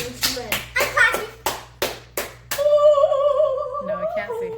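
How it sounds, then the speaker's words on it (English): Hands clap indoors, about seven sharp, evenly spaced claps close to the microphone, then a voice talks. "I'm clapping."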